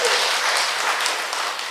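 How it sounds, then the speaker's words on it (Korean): Loud applause fills a church hall, a dense sustained clatter of many hands clapping together at a worship service, continuing evenly without voices. "박수 크게 치시죠."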